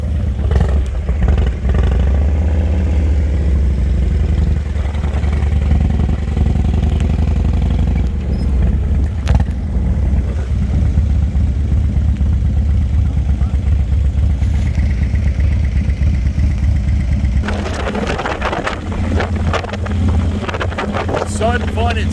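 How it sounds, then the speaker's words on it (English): Motorcycles rumble through a busy Daytona Bike Week street scene, a loud steady roar under heavy wind buffeting, with one bike passing close near the end and a voice talking. "Lots of motorcycles."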